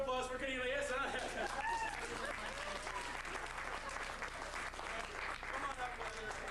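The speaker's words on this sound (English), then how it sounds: "big round of applause for Cornelius" Applause from a brunch audience at a magic show for a volunteer, steady clapping at a distance mixed with a voice talking and some laughter over it.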